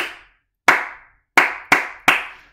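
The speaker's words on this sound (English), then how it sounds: "Instead of flicking the rhythm, clap the rhythm." Sharp hand claps tapping out a short rhythm, one lone clap then a pause followed by four quick claps, close and dry with nothing else heard.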